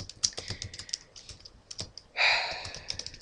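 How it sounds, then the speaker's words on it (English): Rapid keystrokes of someone typing code on a computer keyboard, close and clear, in irregular bursts with a louder sustained swell near the end. "I'm sorry, I can't talk and type at the same time."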